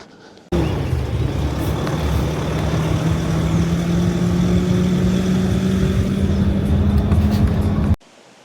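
A 4x4 vehicle climbs a rough trail with a loud, steady engine drone and rumble. A low tone rises slowly as the engine works, starting abruptly and cutting off near the end.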